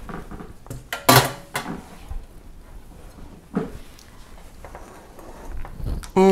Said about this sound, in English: You need to sift your icing sugar so it would not be lumpy.